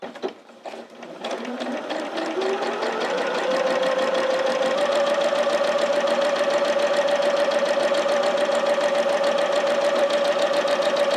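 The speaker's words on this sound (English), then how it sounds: "I'm just going to go ahead and sew." A sewing machine runs through Tula Pink quilting fabric at close range. After a few starting clicks it speeds up into a fast, even, whirring stitch that holds steady to the end. No voices.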